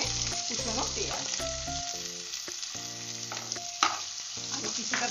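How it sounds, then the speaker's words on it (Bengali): Chopped onions sizzle and fry in hot oil for an Aloo Chop recipe, a steady close crackle with brief stirring clatters and no talk. "তেল আমার গরম হয়ে গেছে। যারা ঝাল খাও তারা এই সময় না কয়েকটা শুকনো লঙ্কা এই তেলে ভেজে নেবে।"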